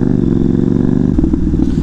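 A motorcycle with a stuck exhaust revs loud and close in a short, continuous growling burst.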